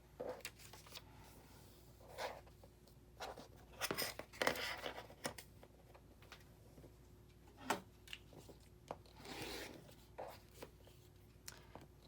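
A dull blade slices through quilt fabric in a run of short, faint, irregular cuts and scrapes, close by, with quiet stretches between the strokes and no talk.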